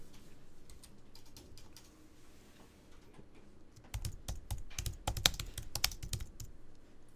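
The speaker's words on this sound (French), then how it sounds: "vous allez taper le sous-titre." Typing on a computer keyboard in a quiet room, light scattered keystrokes at first, then a faster, louder burst of clicking in the second half.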